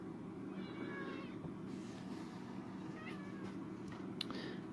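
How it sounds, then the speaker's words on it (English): Cats meowing indoors, several faint, drawn-out meows scattered over a steady low background rumble, with small handling noises in between. "You can hear my mom's cats making a bunch of noise."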